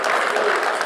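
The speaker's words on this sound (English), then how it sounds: "I ask you not to use any audible clapping, please?" Applause from the audience at a parks and recreation commission meeting, a dense, steady patter of many hands that stays loud and even for the whole short stretch, with no voices heard.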